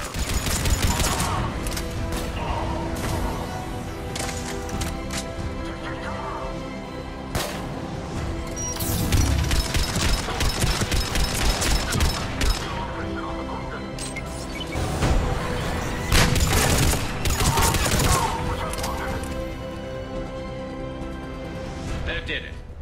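Dense gunfire and explosions from a squad battle on Sur'Kesh in a sci-fi shooter game, with rapid bursts and impacts running throughout, layered under voices and game music.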